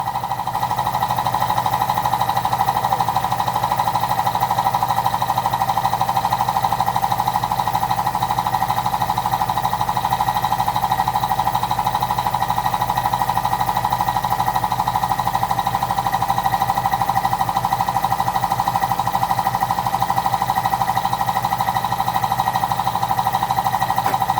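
An air compressor running steadily while it fills during brake work on a 2018 EcoSport, a loud constant mechanical drone with a strong hum and no pauses, alone with no talk.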